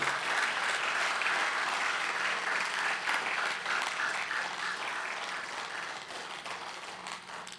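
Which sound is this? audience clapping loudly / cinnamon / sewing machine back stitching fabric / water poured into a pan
audience clapping loudly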